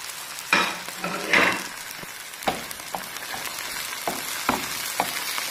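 Halved cherry tomatoes go into a pan of amaranth leaves and sardine, stirred in with a couple of sharp sizzling bursts followed by a steady low frying crackle and occasional spoon clinks against the pan.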